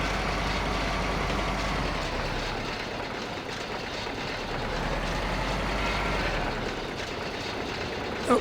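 A truck in Farming Simulator 15 runs with a steady, loud low engine drone that holds almost unchanged throughout, ending in a short knock.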